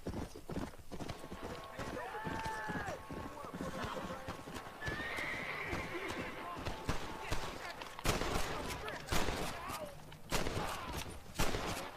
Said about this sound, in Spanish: ¿Esos son disparos, güey?